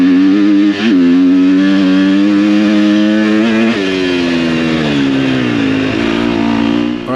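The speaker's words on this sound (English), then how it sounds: "I can really rev this thing second gear, third gear" A 250 four-stroke motocross dirt bike revs hard and climbs through the gears, its loud, buzzing engine note rising and dropping at each shift, close and continuous with no talk.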